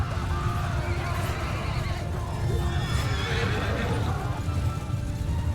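Horses neigh and whinny during a battle in the video game Mount & Blade II Bannerlord, several moderately loud calls over a steady clip-clop of hooves and a low hum, with no talking.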